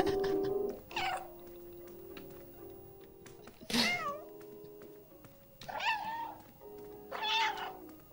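The cat in the video game Stray meows several times, drawn-out plaintive calls spaced a few seconds apart, loud and close over quiet ambient game sound with no talk.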